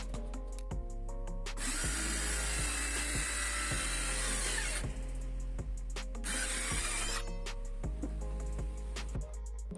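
INGCO CSLI1651 cordless circular saw cutting wood, a loud continuous high whine with two long, harsher bursts of blade biting through the board, close and steady throughout.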